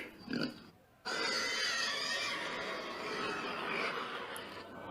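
A herd of pigs gives a brief oink, then a sustained loud, dense wash of squealing and grunting from many animals at once, steady and fairly close.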